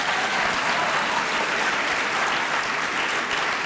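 An audience at a progressive political conference applauds in a dense, even burst of clapping that holds steady throughout with no voices rising above it.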